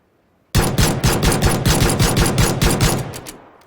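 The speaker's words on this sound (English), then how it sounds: "Unloading my entire magazine and only tagging him once" A pistol in PUBG empties its whole magazine in a rapid, evenly spaced string of loud, close shots, about a dozen in quick succession, then falls silent.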